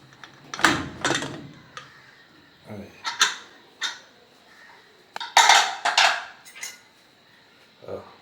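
A pressure cooker opened after its steam has been let out, with a close series of metallic clanks, scrapes and knocks as the lid is twisted and lifted, separated by short pauses.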